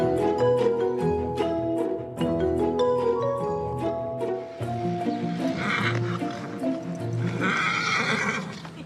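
Horses in Chantilly, the French horse town with its château and great stables, whinny loudly in long, wavering neighs, with clip-clopping hooves and stable noise in the later part.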